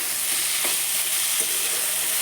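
Pumpkin chhakka frying in a pan, a steady hiss of sizzling oil with two soft scrapes as it is stirred, close and continuous for a couple of seconds.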